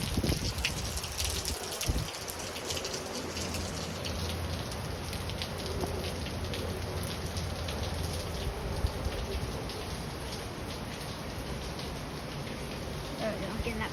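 Heavy rain pours down in Wacol, Brisbane, during cyclone weather, making a dense, continuous hiss that fills the whole stretch, with occasional voices in the background.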